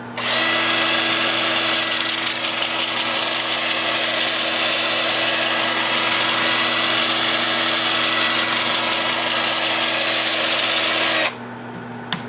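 A wood lathe spins in reverse at about 350 RPM. Its steady, loud motor drone and hum run unbroken for about eleven seconds, close by, then stop abruptly near the end.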